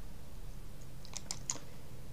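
Computer keyboard keys pressed while mapping emulator controls in PCSX2, heard as a few faint, quick clicks around the middle of the short stretch, spaced irregularly over a low steady background hum with no talking.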